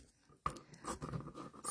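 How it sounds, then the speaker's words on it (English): Pinking shears slicing through fabric for a baby bib, a few close crisp snips and crunchy cuts following a sharp first bite, quiet and alone without talk. "Now I'm cutting this with pinking shears"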